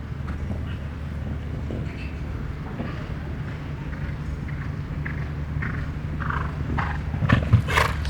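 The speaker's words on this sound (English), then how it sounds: "He won with this horse in Miami, Claire Z, one of the most consistent horses on the circuit." Show-jumping horse, an 11-year-old on the final stretch of an LGCT course in Cascais-Estoril, thudding steadily over the arena footing amid broad crowd and venue ambience, with a brief sharper knock near the end.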